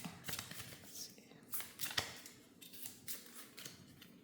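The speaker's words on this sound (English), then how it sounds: "I always feel like I'm trying to shuffle" Tarot cards being shuffled by hand, a series of soft, quick riffling and slapping bursts, quiet and close, with faint whispery sounds between them.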